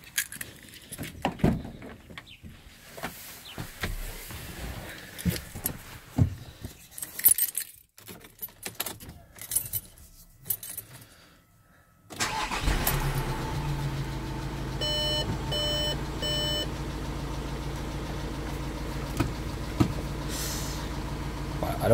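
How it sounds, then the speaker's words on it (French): Keys jangle and rattle in the ignition, then a car engine starts at about twelve seconds and settles into a steady idle while a repeating warning chime sounds over it. "Donc on va mettre en marche le véhicule."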